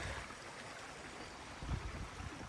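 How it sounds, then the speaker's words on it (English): Hauser Creek running in full spring flow along the Pacific Crest Trail's southern section, a steady broadband rush of water close by with a brief louder gurgle near the end, no voices. "All right, Hauser Creek. Here it is, it's flowing."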